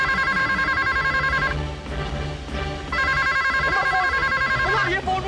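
A telephone rings in repeated electronic bursts, loud and close, with a brief gap before it resumes, while a frightened voice speaks over it.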